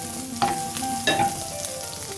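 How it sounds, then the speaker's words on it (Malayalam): Korean street-food bread fries in a pan, a steady close sizzle with a couple of brief scraping stirs as the pieces are turned, no voices over it. "നമുക്ക് മറിച്ചിട്ടിട്ട് രണ്ട് സൈഡും ഒരേപോലെ ഫ്രൈ ചെയ്തെടുക്കാം"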